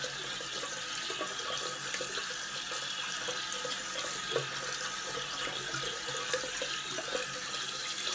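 Tap water runs steadily into a sink as shaving brushes are rinsed clean of lather after a shave, a continuous close splashing wash with no talking.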